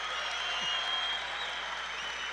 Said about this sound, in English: he gets a standing ovation from the crowd here in Syracuse